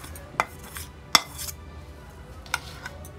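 Egg bonda batter mixture being moved into a large bowl, heard as a few sparse, sharp clinks of a spoon against the bowl over a quiet background, with no talking.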